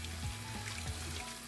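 Warm water runs steadily from a kitchen faucet into a sink during handwashing before cooking beef stew, a soft continuous splash with faint splattering and no talk.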